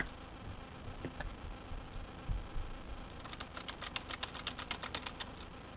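Rapid clicking of a computer keyboard being typed on, a quick burst of keystrokes after a few scattered taps, close and fairly quiet.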